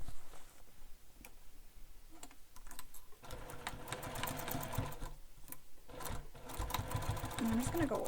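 Short runs of a sewing machine stitch around a bag seam, starting and stopping with brief gaps between bursts, close by and fairly quiet, with faint handling clicks.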